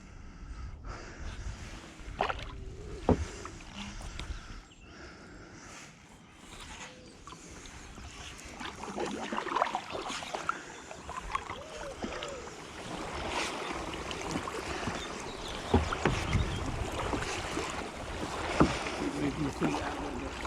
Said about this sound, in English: I've never noticed until now how much noisier kayaking is to paddleboarding